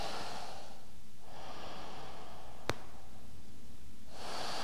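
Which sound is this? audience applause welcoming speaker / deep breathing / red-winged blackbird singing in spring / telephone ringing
deep breathing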